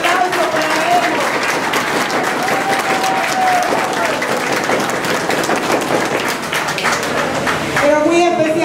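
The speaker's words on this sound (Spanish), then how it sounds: "¡Un aplauso para ellos!" Sustained, dense applause from a large crowd at a political campaign rally, with a voice faintly audible underneath the clapping throughout.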